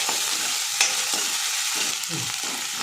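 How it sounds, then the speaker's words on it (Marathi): A chilli-coriander paste sizzles and sputters in a hot pan while a spatula scrapes and stirs it in repeated short strokes, close up with no talking. "आता हे पण चांगलं परतवून घ्यायचं आहे"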